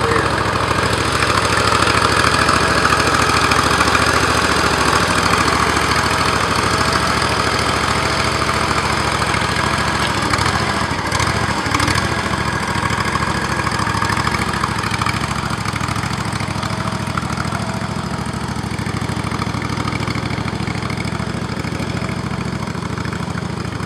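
The engine of a single-axle remote-controlled tractor at a farm show runs steadily for the whole stretch, a loud, even idling drone with a slight knocking texture and no voices.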